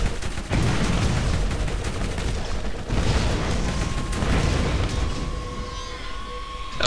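Continuous gunfire and booming blasts in the video game Borderlands, loud and dense throughout with rapid shots layered over explosions and no pauses.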